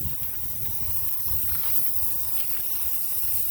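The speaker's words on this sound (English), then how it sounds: "So I got my purple spray paint." Purple spray paint hissing from an aerosol can onto resin purse frames and shells, a steady continuous spray at close range with no talking.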